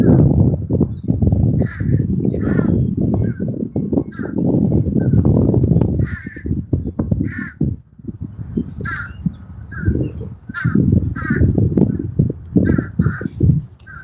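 Crows caw in repeated harsh bursts overhead beside the Anacostia River, several birds calling over a steady loud rumble of wind or water.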